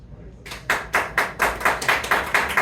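Taphouse audience clapping in unison to vote for a contestant at a live comedy show, starting after a brief pause into a loud rhythmic beat of roughly a dozen even, close claps.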